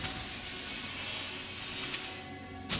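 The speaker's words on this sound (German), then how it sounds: "dann schweißen wir den auch nochmal auf" A cutting torch welds open a metal cabinet in Elite Dangerous Odyssey, a steady hissing, rasping burn running close and continuous for nearly three seconds, with a brief flare at the very end.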